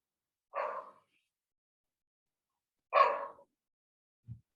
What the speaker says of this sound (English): Oh, someone's dog barking.